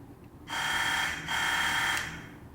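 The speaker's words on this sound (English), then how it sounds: "That's the doorbell." A loud electric doorbell buzzer sounds twice, a steady harsh drone with a brief break between presses.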